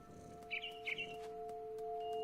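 A mama bird chirps in the video game What Remains of Edith Finch, a few short bright tweets in quick succession over a faint steady tonal hum and quiet background, fairly close.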